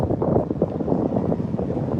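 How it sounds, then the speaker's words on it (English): Steady, loud wind buffeting the microphone in New York City, a rough continuous rumble with no other sounds standing out. "Yes, it is kind of windy"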